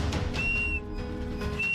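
A person stuck hanging in a deep gorge whistles for help: two sustained, steady whistle tones, each lasting about half a second, set against a constant background hum, with no voices.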